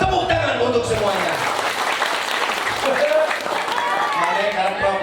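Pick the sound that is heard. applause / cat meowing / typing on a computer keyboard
applause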